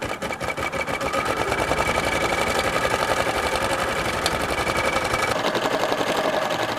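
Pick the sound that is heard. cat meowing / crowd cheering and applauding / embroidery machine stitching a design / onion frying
embroidery machine stitching a design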